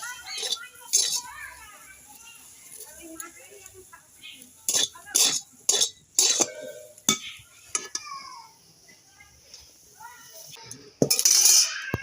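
Hot boiled potatoes being mashed in a pot, heard as a run of clinking and scraping utensil strikes against metal, irregular and close, with a voice in the background.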